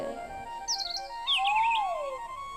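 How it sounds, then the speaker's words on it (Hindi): Asian koel and papiha cuckoo calling softly, with a few high chirping notes followed by a clear rising-then-falling whistled call, moderately distant, with no talk. "कोयल भी बहुत धीरी आवाज दे रही है, पपिया भी बहुत कम बोल रहा है।"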